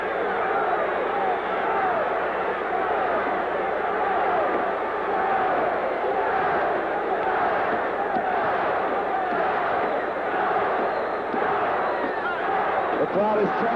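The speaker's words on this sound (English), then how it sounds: "The crowd is chanting with Pupsky." Wrestling arena crowd at a 1980 WWF match between Larry Zbyszko and Ivan Putski, chanting and roaring loudly and continuously, a dense wall of voices.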